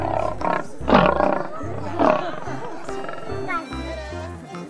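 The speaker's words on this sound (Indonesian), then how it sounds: "ini kita dapat singa ya teman-teman." A toy lion roars several times in loud, rough bursts, with a near voice speaking and light plastic clatter from other toys between the roars.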